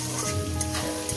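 Shrimp frying with salt in a pan over a medium gas flame, a short burst of close, even sizzling hiss with a low hum underneath.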